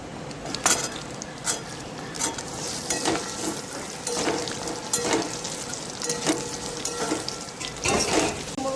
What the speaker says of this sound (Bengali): ওই তেলে আলু আর সজনে ডাঁটাগুলো কিছুক্ষণ ভেজে নিচ্ছি।